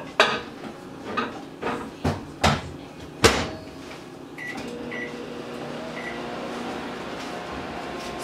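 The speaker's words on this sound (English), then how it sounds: "I'm just gonna microwave this and then put in the chocolate and melt it" Microwave oven melting butter for brownies in a home kitchen: several sharp clunks of the door and dishes come first, then a steady low hum with a few faint beeps that runs to the end.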